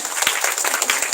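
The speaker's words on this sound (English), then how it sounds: "You should clap for that." Audience applause at a national conference inaugural ceremony, a short burst of dense clapping from a hall crowd, steady and fairly loud throughout.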